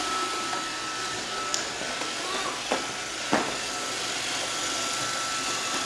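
A Roomba robot vacuum hums steadily at moderate distance indoors, its even whirring punctuated by a few soft bumps and clicks.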